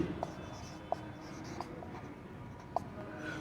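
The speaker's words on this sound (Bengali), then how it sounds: "আমি লিখে দিচ্ছি" Faint scratching of writing on a board during a geometry math lesson, a few light taps and strokes over steady room noise.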